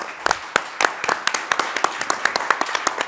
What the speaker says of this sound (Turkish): Lütfen daha kuvvetlisini verir misiniz?